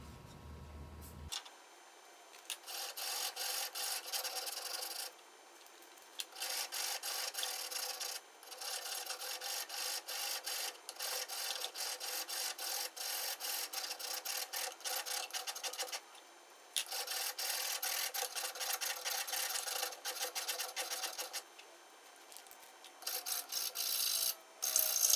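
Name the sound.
sanding a wooden dowel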